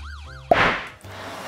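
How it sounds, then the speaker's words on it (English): A wailing siren sweeps up and down twice in quick succession, then cuts off into a brief burst of broadband noise and a low hum. "I hear a siren."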